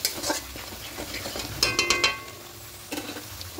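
Spice paste for egg korma is stir-fried in a pan with salt, giving a low sizzle broken by scattered clinks and scrapes of a spatula against the pan.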